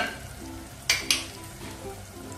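Spices for dal, including turmeric, garam masala and chilli powder, sizzle steadily in a hot pan while a utensil stirs, with two sharp scrapes standing out above the constant frying hiss.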